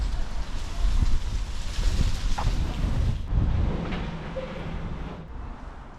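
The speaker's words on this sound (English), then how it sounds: "Much more wet and windy than when we departed McDonald's." Gusty wet and windy weather buffets the microphone on a walk at Snodland, Kent, with a loud rumbling roar that eases off in the final seconds.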